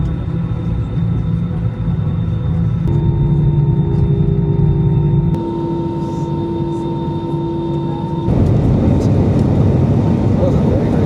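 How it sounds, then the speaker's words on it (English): An EasyJet airliner's engines roar during a long takeoff roll, a loud, steady rumble heard from inside the cabin with shifting engine tones and a jump in level near the end. "That was a very, very long takeoff."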